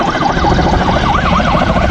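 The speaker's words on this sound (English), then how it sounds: "The helicopters have sirens on them." A helicopter sounds its siren nearby, a loud, rapidly warbling wail rising and falling over a dense roar for the whole moment.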